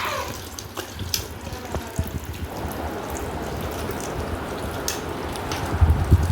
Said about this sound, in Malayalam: വെള്ളം ആവശ്യത്തിന് ഒഴിച്ച് കൊടുക്കാം